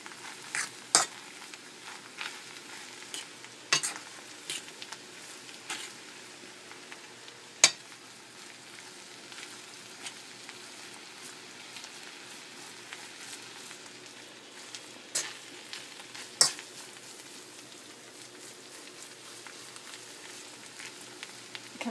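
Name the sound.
shrimp pieces being stirred and fried for Chinese rice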